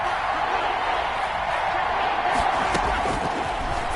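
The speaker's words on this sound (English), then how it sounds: "the crowd getting into it as we come up on a big 3rd down" A stadium crowd roars in the Madden NFL football game during a Colts versus Texans matchup ahead of a big third down, a dense, loud, continuous wash of cheering with a few sharper shouts rising near the end.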